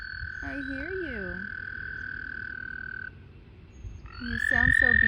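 Frogs croaking during mating season, several calls near and clear: warbling, pulsed croaks in two bursts separated by a quieter stretch, over a steady high whistle-like drone.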